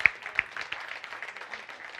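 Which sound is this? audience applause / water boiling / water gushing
audience applause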